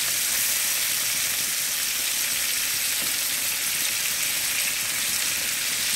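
Meat sizzles loudly and steadily in a hot frying pan just after being flipped, a dense, even crackle with no pauses and no voices.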